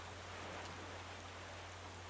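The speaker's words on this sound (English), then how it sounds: "I don't like that it's raining now." Rain falls in The Legend of Zelda: The Wind Waker near the ice island, a soft, even hiss of drops with a low steady hum beneath, faint and without voices.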